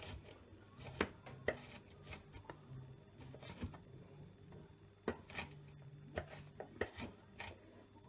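Onions being chopped with a knife on a board for chilli con carne: quick, irregular, crisp cuts and taps, faint and close, with scattered pauses between bursts.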